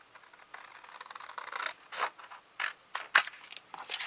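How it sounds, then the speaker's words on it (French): Scissors snip through paper from a summery card-making kit, a close run of quick, uneven cuts that grow sharper toward the end. "Donc je découpe ce que j'ai besoin."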